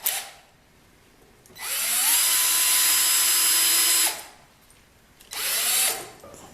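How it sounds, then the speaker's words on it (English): A power drill drives screws into plywood while a tambourine for a stumpf fiddle is built: two close, loud whirring bursts, the first about two and a half seconds long, the second shorter, with quiet gaps between. "I'm spinning these in so I don't split the plywood."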